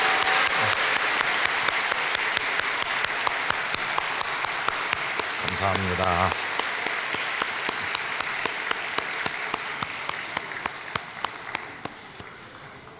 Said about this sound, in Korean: 우리 집중한 박수를 한 번 더 하겠습니다.